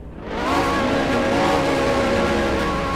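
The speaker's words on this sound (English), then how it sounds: "we want to hear you guys revving, because we're about to get going" Race cars in a GTI feature event rev their engines together on the grid before the start, a loud, sustained, layered engine roar with a rising pitch that holds steady.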